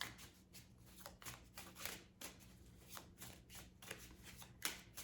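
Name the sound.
shuffling tarot cards for a reading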